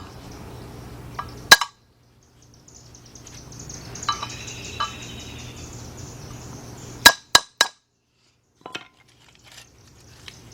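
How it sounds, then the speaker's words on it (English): A few sharp metallic taps from a brass hammer on a small pry bar, working on a 1977 Buick LeSabre 350 engine, single strikes spaced apart, then a quick cluster of three, in a quiet room with faint background noise. "take me a little pry bar with a brass hammer, and I just wanna tap that down"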